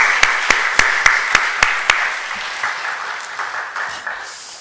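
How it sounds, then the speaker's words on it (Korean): Church congregation at an afternoon worship service breaking into applause, with a few sharp individual claps at first that blend into a sustained, moderately loud wash of clapping that slowly thins out. "다시 한번 우리 큰 박수 부탁드립니다"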